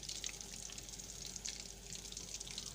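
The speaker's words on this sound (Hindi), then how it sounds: "फिलहाल मैं छोटे छोटे बोल इसमें ऐड कर रही हूँ और आप इसे लो फ्लेम पे फ्राई करें।" Prawn pakoras sizzle steadily in oil over a low flame, a soft continuous crackle and hiss close by with no talk.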